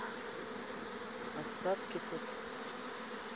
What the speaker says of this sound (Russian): Загоняем остатки пчел.